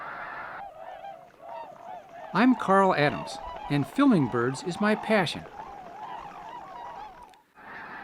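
Snow geese honk repeatedly in a loud, ragged chorus, with someone talking over the calls throughout.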